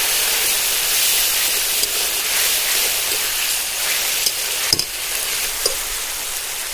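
Water poured into a pan of frying white mustard paste gives a loud, steady sizzling hiss throughout, with a few brief clinks of a utensil near the end.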